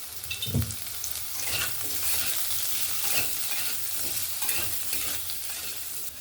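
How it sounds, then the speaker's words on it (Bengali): Food fries and sizzles in a pan while peas and paneer are cooked, with steady crackling and periodic stirring scrapes, close and continuous with no talking. "সুন্দরভাবে ভেজে নিচ্ছি"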